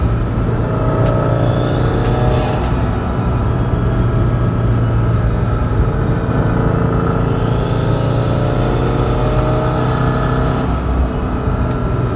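Steady, loud rumble of a turbocharged 2015-or-later Subaru WRX engine with a GrimmSpeed turbo inlet, heard from inside the car, with a rising whoosh and whine as it accelerates toward the end.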